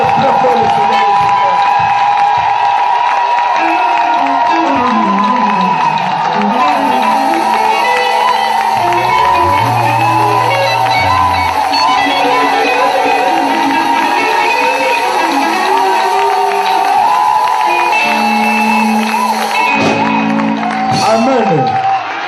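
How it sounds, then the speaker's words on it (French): Congregation at a French-language church service cheering and acclaiming the Lord: loud, sustained crowd shouts, whoops and applause fill the whole stretch, with voices rising and falling together over a busy, close background. "Nous acclamons très fort le Seigneur."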